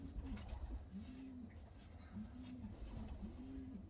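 A banded pigeon coos while being held in the hand, a soft, close, repeated rolling call sounding about three times at a steady rhythm over light handling rustle.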